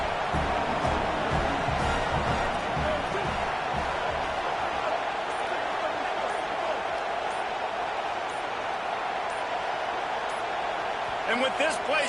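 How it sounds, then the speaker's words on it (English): A stadium crowd roaring at a football game in Utah, a steady wall of loud broad noise throughout, with a commentator talking over it. "with this place rocking, the crowd forces a false start"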